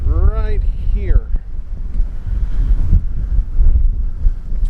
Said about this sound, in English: I'm sorry if it's really windy